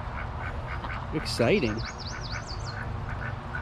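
A black duck gives a short run of nasal quacks nearby, rising and wavering, while people talk over it and a bird chirps faintly in the background.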